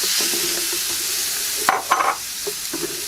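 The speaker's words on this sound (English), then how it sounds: "On top of that, we're going to use our grinded down tomato. So we'll put that in." Ground tomato added to a pan of paella cooking on a mini kamado grill, a steady close sizzle with a few brief stirring scrapes partway through.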